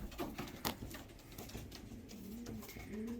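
Pigeons coo in low, rounded, repeated calls close by, with a few sharp flutters or taps early on and a steady murmur of other birds behind them.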